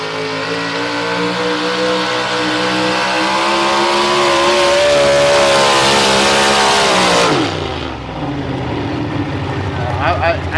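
A tractor-pulling engine revs hard and loud, its pitch climbing steadily for several seconds before cutting off abruptly, with a harsh roaring drone throughout.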